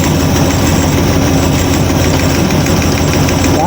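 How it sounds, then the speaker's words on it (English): A 1953 Ford Customline fitted with a 350 engine and a new intake runs steadily right after a carburetor adjustment, with a loud, continuous close-up engine roar and slight stumbles and no one speaking. "You hear the engine stumble a little bit."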